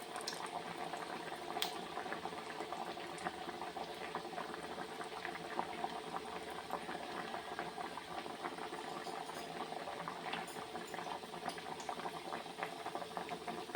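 Pieces of dough boiling in a pot of water, a steady close bubbling and rolling simmer with faint pops, continuous throughout and no voices.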